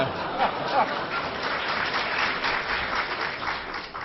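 A crowd applauds steadily for several seconds, a dense wash of clapping with a few louder spots near the start.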